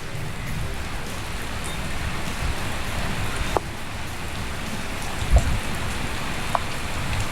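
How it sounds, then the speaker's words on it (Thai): Steady rain pours down at an outdoor fishing spot, a dense even hiss of drops hitting the ground and water close by, with a few sharper knocks and taps breaking through the constant downpour. "แต้มแรกฝนตก ตกก็ลุยนะครับ"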